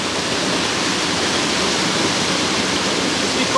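Steady, dense rush of flowing river water, loud and unbroken like a broad stream or rapids close by, with no voices.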